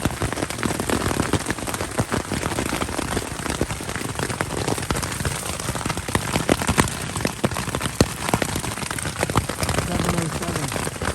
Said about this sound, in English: and the rain is still continuing pouring